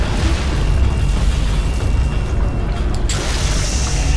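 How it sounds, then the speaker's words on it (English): An explosion in the video game Halo 3 fills the whole stretch as a loud sustained roaring rumble, dense and broadband, with a brighter shift near the end. "now there's explosion"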